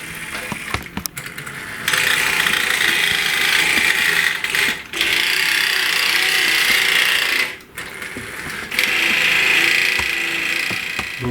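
A vintage battery-powered toy truck runs with a busy, continuous mechanical whir and clicking of small gears. It cuts out briefly a few times before resuming at steady loudness.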